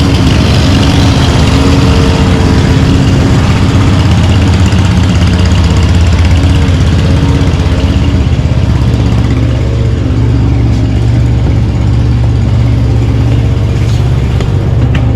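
Several small engines idle steadily after winter storage, a loud, continuous low rumble with a slight knock that holds close and unbroken throughout, with no talking.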